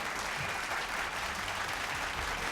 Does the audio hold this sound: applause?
yes